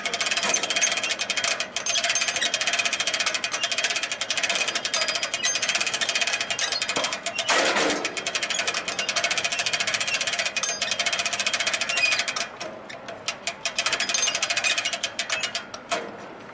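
An EMC manhole rescue device's winch is cranked steadily, giving a loud fast rattling ratchet clatter that runs for most of the stretch, briefly stutters near the end, and has no speech over it.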